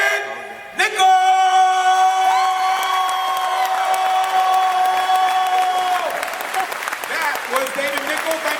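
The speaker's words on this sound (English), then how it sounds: "Let's give a nice round of applause for Mr. David Nichols!" A DragonCon 2014 convention crowd applauds and cheers for a cast member, a loud burst of clapping and whoops that starts suddenly and sustains, with a strong amplified musical tone holding underneath for several seconds.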